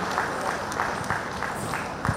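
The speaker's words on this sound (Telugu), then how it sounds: "ఆ అమ్మాయి గట్టిగా చప్పట్లతో వేదికపై ఆహ్వానించుకుందాం" Audience clapping at a village rally stage event in Sangareddy district, welcoming a young woman onto the stage; steady dense applause from a crowd at moderate distance, continuous for the whole stretch with no talk over it.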